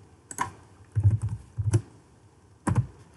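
Computer keyboard keys tapped in short quick bursts with pauses between, close and fairly quiet, with no voices.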